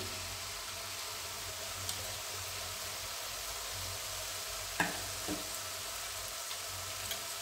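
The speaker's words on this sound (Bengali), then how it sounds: "এই মশলাটা কষানো হয়ে আসছে" Steady sizzling of spice paste and potatoes frying in a pan for a broccoli curry, a constant close hiss with a couple of faint clicks from stirring.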